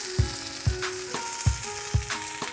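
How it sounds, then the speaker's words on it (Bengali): Fish and pumpkin leaf bora fry in a pan over medium heat: a steady, close sizzle of hot oil with a few soft low thumps at irregular intervals. No one speaks. "আমি মিডিয়াম হিটে বড়াগুলো 8 মিনিটের মতো ভেজে নিলাম।"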